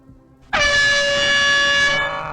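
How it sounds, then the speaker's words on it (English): A single loud, sustained air horn blast starts abruptly and holds steady for about one and a half seconds before cutting off, over a quiet background. "Fucking air horn."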